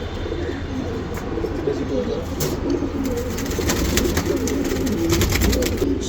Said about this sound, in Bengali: তারপরে এখানে আছে সিলভার বেজি কবুতর